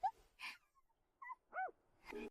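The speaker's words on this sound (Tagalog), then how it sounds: "Ang cute ng munting aso." A small dog whimpers in a few short, high, quiet yips and whines with gaps between them, faint and close.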